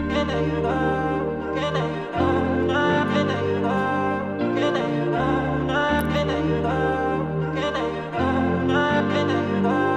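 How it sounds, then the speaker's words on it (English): A short chopped vocal snippet repeats over and over inside a full R&B drill beat, riding on thick bass and steady rhythmic layers. "add one more vocal chop, just repeating something like constantly, and it sounds like this"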